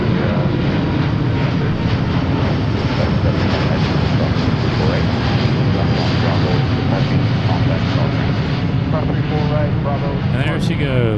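Lufthansa 489 heavy jet taking off at Seattle-Tacoma airport, a loud sustained engine roar with rumble and wind noise, voices talking over it.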